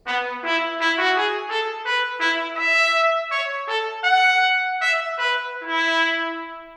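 Far-microphone ProjectSAM solo trumpet samples carry a rapid staccato phrase of crisp separate notes, set back in a spacious hall with a reverberant tail, instrument alone.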